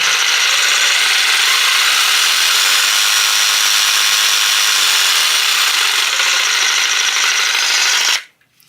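An Einhell 18V brushless jigsaw, model PXC TP-JST 18/135 Li BL, cuts wood at speed setting 7 with a loud, steady, harsh buzzing rasp for about eight seconds before abruptly stopping.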